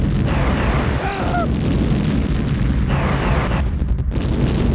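Rockets striking a target in the Command and Conquer video game, a series of heavy booms and bursts over constant battle rumble, with a brief whistling tone and a sharp crack near the end.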